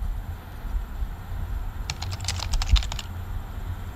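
Brief burst of typing on a computer keyboard, a quick run of close, crisp key clicks lasting about a second amid a low background hum, with no talking.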